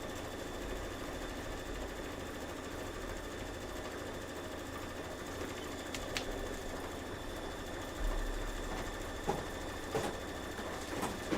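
Embroidery sewing machine stitching a fuse detail in dark gray thread, a steady low mechanical hum with soft rhythmic stitching throughout and a few faint clicks.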